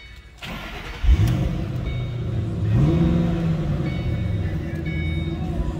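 A 2007 Ford Mustang Saleen H281 Heritage Edition engine cranks and catches, then revs up and settles into a steady idle, with a brief voice in the background.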